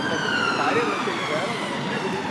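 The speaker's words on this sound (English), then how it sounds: "A bit unnecessary with the sirens, but hey ho." An ambulance siren wails loudly on a street beside a cove, its rising and falling tone steady and close throughout the short stretch.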